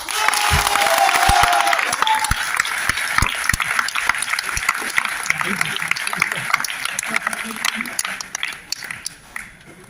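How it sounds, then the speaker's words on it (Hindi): Loud audience applause fills a seminar hall, dense and steady at first, then thinning toward the end, with a crowd murmur and a voice talking over it. "जोरदार तालियां हो जाए।"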